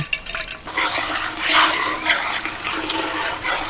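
Grated mango being squeezed by hand to wring out its water, wet squishing and trickling sounds in uneven pulses, close and moderately loud, with no talk.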